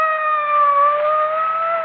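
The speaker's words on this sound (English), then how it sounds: "Oh, what's that? It's a police car. It's going that way." A police car siren in a 1974 radio drama, a loud steady wailing tone that holds and slowly bends in pitch, heard alone.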